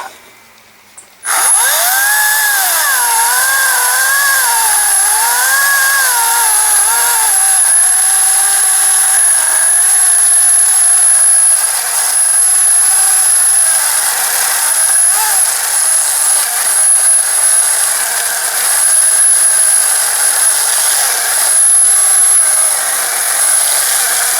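A Ryobi 40V brushless 14-inch cordless chainsaw whines up to speed and runs steadily at high pitch for a long stretch, loud and close, cutting through a wooden tree stump.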